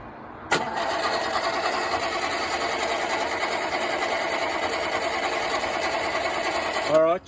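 Holden 48/215 engine cranking on its starter at the roadside: a steady, loud mechanical whirring drone that begins abruptly and runs evenly for several seconds before cutting off with a brief rattle, with no voices.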